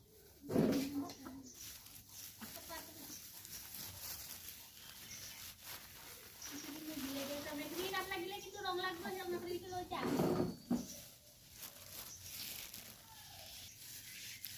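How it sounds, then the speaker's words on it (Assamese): A few backyard chickens cluck and chatter at a rural home in Assam. Their soft, irregular clucks sit in the middle distance, and someone talks over them. Other household and outdoor noises can also be heard. "এইকেইটা মুৰ্গী আছে আমাৰ।"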